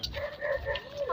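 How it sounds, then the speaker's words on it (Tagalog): Dogs near a rural walking path bark and whine in a short, close burst of yips with rising and falling tones, the setting a wooded area on the way to a river. "Dami kasi mga aso dito"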